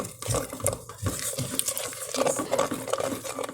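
Rice crispy and peanut butter mixture stirred by hand in a bowl for a no-bake Christmas treat, giving steady soft scraping and crackly crunching strokes in a close, quiet rhythm.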